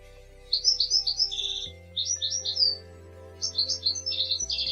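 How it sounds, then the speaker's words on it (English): A British goldfinch sings a liquid, twittering song in three quick bursts of rapid high notes, clear and close, with short pauses between phrases and a faint background hum. "The goldfinch has a liquid twittering song and call."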